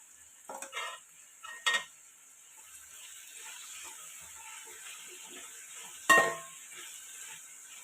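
Sliced onion and square-cut capsicum sautéing with salt in a pan for a soybean dish, a faint low sizzle broken by a few sharp stirring clatters of a utensil against the pan.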